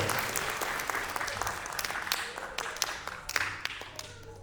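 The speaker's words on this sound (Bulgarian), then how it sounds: "Аплодисменти за победителя в четвърта възрастова група." An audience claps for the winner of a fourth age group at a school poetry recitation contest, moderately distant applause with scattered distinct claps that thins toward the end.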